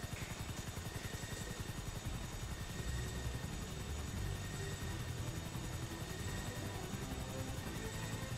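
A helicopter's rotor in Grand Theft Auto V chops steadily and loudly throughout, with a continuous engine drone underneath and no voices.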